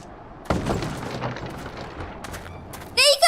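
A video game skirmish near Xak Tural sets off a rapid, rattling burst of gunfire at moderate loudness for a couple of seconds. A brief voice cuts in right at the end.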